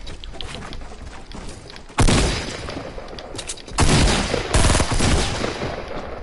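Gunfire rings out in a PS4 shooter game, opening with a stretch of quieter background action. Loud, abrupt bursts of rapid shots follow, one around the two-second mark and more toward the end, close and heavy.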